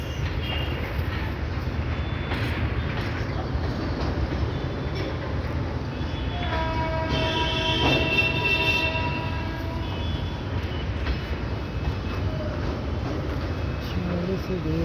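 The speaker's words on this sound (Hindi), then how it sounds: "इधर से गाइस एक ट्रेन हमारी डेमो आ रही है" A DEMU passenger train rumbles closer with a steady rolling roar, a horn-like tonal sound rising midway, and voices faintly present beneath the noise.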